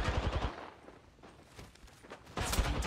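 Automatic weapon fire in the video game Apex Legends comes as short rattling bursts at the start and again at the end, with a quieter gap in between.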